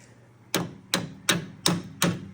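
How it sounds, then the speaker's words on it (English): Five sharp metallic hammer taps at a steady rhythm, close and fairly loud, each ringing briefly, tapping a clip into place while replacing struts and sway links on a 2001-2012 Ford Escape or Mercury Mariner. "We'll take our hammer,"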